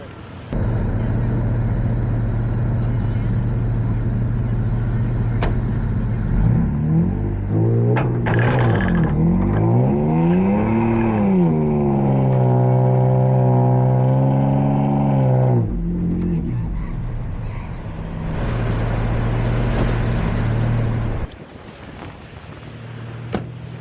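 A Toyota Tundra stuck in mud revs its engine loudly and steadily, then pitch rises and falls in swelling waves as it strains under tow. The sound is close, with wind buffeting the microphone, then drops to a lower idle near the end.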